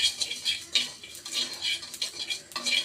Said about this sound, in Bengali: আমি 5 ফোড়নগুলা সুন্দরভাবে ভেজে নিব